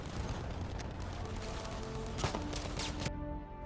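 Turner SMLE semi-automatic rifle firing in Battlefield 5, a dense stretch of battle gunfire with rapid overlapping shots and crackling impacts, a few sharper reports near the end, then a quick drop to quiet.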